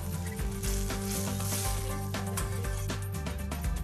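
A tablespoon of butter sizzles in a hot frying pan before crepe batter goes in, a steady crackling hiss that runs throughout, close and fairly loud over a low background hum.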